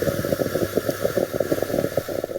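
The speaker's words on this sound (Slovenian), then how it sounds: "to je zvok kafetiere." Moka pot coffee maker brewing on the stove, a continuous gurgling, sputtering burble with rapid irregular pulses, close and moderately loud, no voices.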